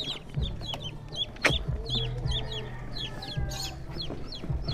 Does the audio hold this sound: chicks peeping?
yes